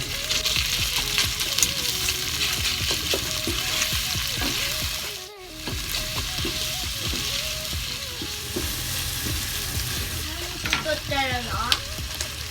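Pork and onions fry in a pan for Nagasaki sara-udon, a steady close sizzle with rhythmic stirring scrapes and clinks, briefly dipping before resuming, with a faint voice near the end.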